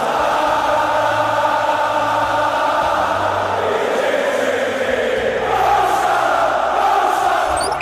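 A large football crowd at Anfield, Liverpool's stadium, chants Mohamed Salah's name, a dense, sustained roar of many voices with steady tonal swells that carries on unbroken throughout.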